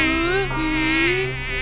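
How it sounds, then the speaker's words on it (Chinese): Cartoon super mosquito buzzing close and loud, a thin high whine that wavers in pitch and briefly dips before carrying on. "好的，主人，超级蚊子，叮咬吧。"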